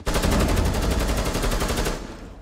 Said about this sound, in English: Covering fire. It's kind of helping with suppressing fire.